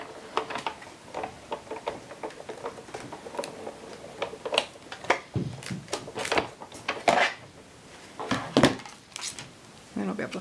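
A Cuttlebug die-cutting and embossing machine cranks stacked B and A plates through. It makes a series of close, sharp clicks and knocks in an uneven rhythm, loudest toward the end, with a person talking between the clicks.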